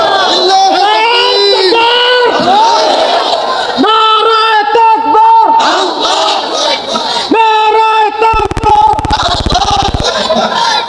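Crowd at an Islamic religious sermon gathering responds to a preacher's call with loud chanted takbir, repeated voiced shouts in unison rising and falling in bursts, close and forceful, with a leader's voice between them.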